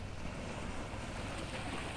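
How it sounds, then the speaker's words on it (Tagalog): Seaside waves wash in a steady, broadband rush along the shore at Batangas, mixed with wind buffeting the microphone, with no voices. "Dito kami sa tabing dagat"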